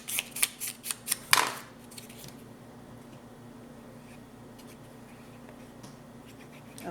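Paper cut with scissors for scrapbooking: about six quick crisp snips in a row near the start, close and sharp, then quiet room tone with only faint handling.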